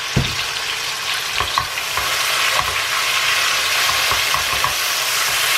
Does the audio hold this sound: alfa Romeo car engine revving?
no